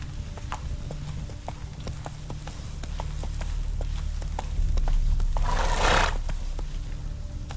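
Roach, the horse in The Witcher, gallops with steady, rapid hoofbeats that stay loud and close, while a rushing roar swells midway; no one speaks.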